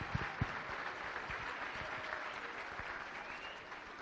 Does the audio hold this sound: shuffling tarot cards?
no